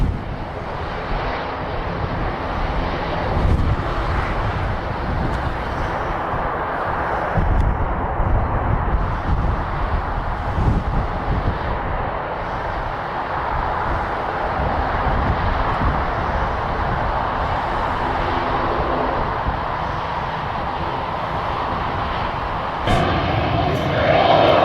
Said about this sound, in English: An emergency landing, executed under pressure